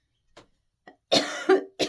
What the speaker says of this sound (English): I've got a tickly cough.